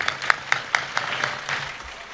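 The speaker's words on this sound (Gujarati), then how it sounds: "એકવાર તાળીઓથી વધાવો મારા બાપ" Audience applause at a live Gujarati comedy show, a burst of sharp claps with distinct peaks that settle into a steady patter over about two seconds, with no talking.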